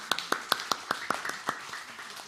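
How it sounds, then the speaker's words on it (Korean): Congregation in a church claps in a regular rhythm to encourage students, about eight crisp, evenly spaced claps that fade into softer, scattered ones near the end. "우리 애들에게 우리 박수 한번 쳐주십시다."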